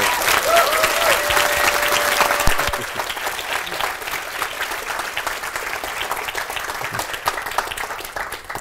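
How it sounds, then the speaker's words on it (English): Audience at a game-engine developer conference (GodotCon 2023) applauding a speaker: sustained, dense clapping from many people that gradually softens, with a brief voice near the start. "So maybe we could applaud Gerge for his hard work."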